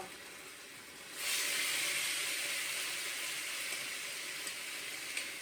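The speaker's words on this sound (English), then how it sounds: "Listen to that sizzle." Food tossed in chipotle barbecue sauce hisses in a hot pan, a steady broadband sizzle that jumps up suddenly and then holds fairly loud and even.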